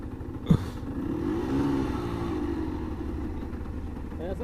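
A 125cc motorcycle rides along with a steady, close engine drone, pitch rising and falling slightly as it brakes, with a sharp knock near the start and speech over the engine.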